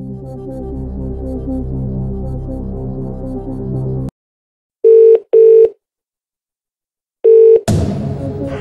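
Telephone dialing tones in the Who Wants to Be a Millionaire video game's phone-a-friend lifeline: a few short, loud electronic beeps in sequence after the music cuts out, then a burst of new sound starts.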